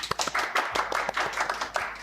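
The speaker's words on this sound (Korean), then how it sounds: "박수 부탁드립니다" Audience clapping at a Korean live tech broadcast as an SK C&C manager is introduced, a steady ripple of many hands at moderate volume with no voices over it.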